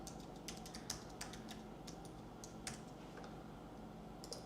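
Keys tapped on a computer keyboard while a password is entered at a login screen, a quiet run of irregular clicks over a low steady room hum.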